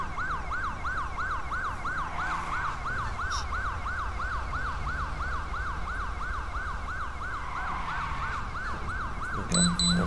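A video game ambulance siren cycles up and down rapidly and steadily throughout, with a faint engine hum underneath and no talking.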